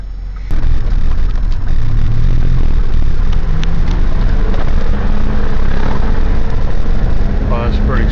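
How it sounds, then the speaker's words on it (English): A Ford diesel truck drives on a test run after a fuel system repair. Its engine holds a steady, loud drone from inside the cab, with talking over it. "Now let's go test drive and just see how it does."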